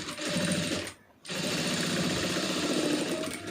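A sewing machine stitches the front piece of an Aari blouse in close, rapid bursts, pausing briefly for a moment before running steadily again.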